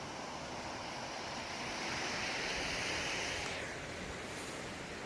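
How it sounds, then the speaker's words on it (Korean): Clear stream water flows near a campsite in a steady, broadband rush, moderately quiet and continuous, with no voices. "물이 맑아서 물소리도 많이 들리고"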